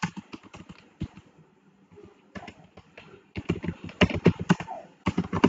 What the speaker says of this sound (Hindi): ईमेल कंपोज करते वक्त आगे आप कुछ टाइप करते हैं